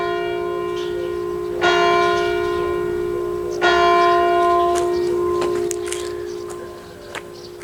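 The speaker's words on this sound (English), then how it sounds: "The bell ringing at 8 o'clock, and it's 8:05 according to the clock." A church bell tolls three times at a slow, steady pace at eight o'clock, each strike ringing out with a long humming decay.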